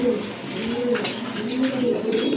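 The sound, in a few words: male satin pigeon cooing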